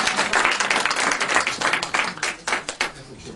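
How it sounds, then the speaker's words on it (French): A theatre audience at a Paris mediumship show bursts into loud, dense applause, many hands clapping at once, the clapping thinning into scattered claps as it fades out over a few seconds. "Allez, on applaudit."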